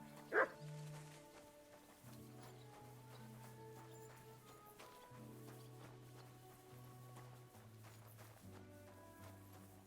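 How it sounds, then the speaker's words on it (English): A dog in the medieval game Kingdom Come: Deliverance 2 lets out a single sharp bark near the start, then the rest passes under steady game music with faint ambient movement. "You silly doggy."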